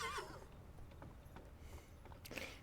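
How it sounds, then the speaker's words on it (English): A horse whinnies briefly at the start as a sound effect in a tabletop role-playing session, followed by faint scattered clatter against a quiet background hum. "The horse just gave you an answer."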